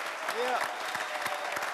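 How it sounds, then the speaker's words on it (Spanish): Studio audience applause on a radio-TV talk show, steady broadband clapping at moderate level for under two seconds, with a voice briefly rising over it. "eso merece un aplauso muy fuerte"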